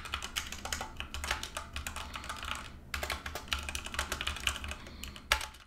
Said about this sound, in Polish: tak przedstawia się głośność klawiatury z przełącznikami Red.